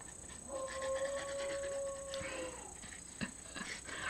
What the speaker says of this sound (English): now he's howling at the fire truck